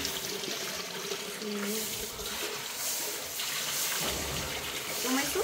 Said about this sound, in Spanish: aquí ya está lavando el pollo